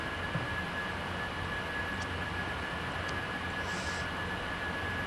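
Jet engines of a McDonnell F2H-2 Banshee in Flight Simulator 2020, a steady, even roar near 70% RPM that fills the whole stretch with broad constant noise, a faint high whine running through it and no voices.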